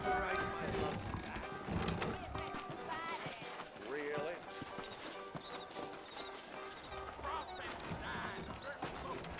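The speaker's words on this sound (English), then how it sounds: "I got the horses saddled up and ready out front" Horses' hooves clip-clop at a trot in the Red Dead Redemption video game, rhythmic and fairly quiet beneath a busy mix of game music and ambient effects.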